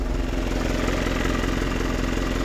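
A Fuso Canter truck with a 4M50 engine runs steadily after its main relay is replaced, giving a loud, close, continuous idle with an even rhythmic clatter.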